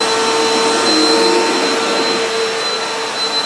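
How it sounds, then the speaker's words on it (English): Vacuum cleaner running on carpet, with a loud, close, continuous motor whine and airflow roar that holds steady with a slight dip near the end. "Am I not allowed to vacuum my carpet?"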